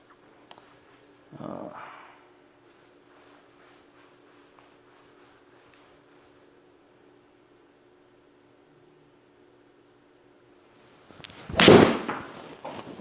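A golf club strikes a ball into a hitting net in front of a SkyTrak+ launch monitor: one sharp, loud impact near the end, preceded by a softer thump, with quiet surroundings otherwise.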